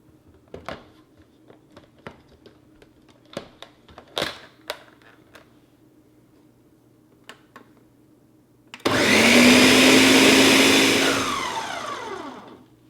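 Several scattered clicks and taps, then a loud blender pureeing pears roars steadily for a few seconds, its pitch shifting as it purees.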